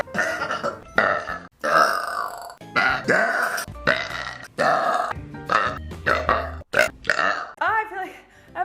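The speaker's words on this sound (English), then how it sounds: "I feel like I have a burp." Repeated loud, deep burps from a woman, a rapid run of guttural belches one after another, close and dry with no other sounds between them.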